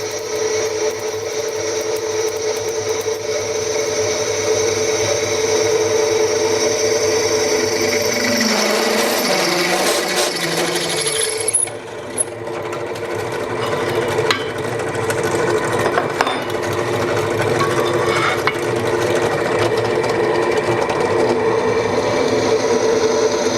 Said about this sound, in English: Pedestal drills make everything easier.